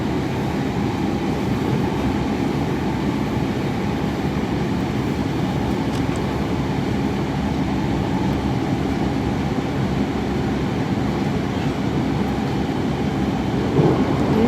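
A train passing through a residential area in Japan, a steady, continuous rumble of rail noise held at an even level throughout, with no talk over it.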